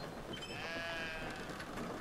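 Sheep bleating in the video game Brothers: A Tale of Two Sons, a wavering, drawn-out animal cry heard alone over steady game ambience.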